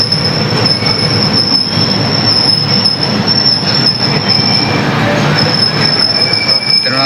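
A passenger train pulls into Thiruvananthapuram Central railway station in Kerala, with a steady rumble of rolling wagons and a continuous high metallic wheel squeal, loud and close from inside the coach.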